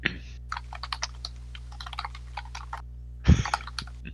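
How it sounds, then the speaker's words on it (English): Keys on a computer keyboard click in quick, irregular taps over a steady low hum, closing with a louder thump near the end. "That typing."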